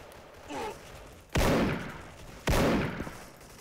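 Gunfire in the online shooter Soldier Front: two sharp, loud blasts about a second apart, each trailing off in a short decaying tail, over a low background murmur with a faint voice-like sound earlier.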